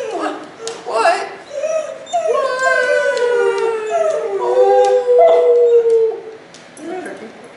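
A dog howls and whimpers close by, a long wavering series of rising and falling cries with short yips, loud and continuous.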